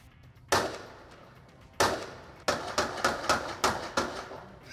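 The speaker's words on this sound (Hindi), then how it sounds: "आप फायरिंग की आवाज सुन सकते हैं।" Gunshots ring out as Indian Army troops fight militants hidden inside a house: a few isolated reports, then a rapid irregular burst of about eight cracks, moderately distant with a sharp attack and short echoing tails, no voices.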